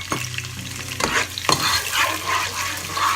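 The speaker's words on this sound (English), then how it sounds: "Then I add the onions and the okra, and then I fry it up." Onions and okra fry in a pan for ogbono soup, sizzling steadily at close range with several sharp stirring clatters.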